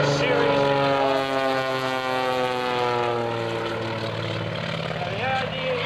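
Bobby Younkin's Samson aerobatic propeller plane making a rolling pass at an airshow, a loud, continuous engine drone with a shifting pitch as it rolls around overhead.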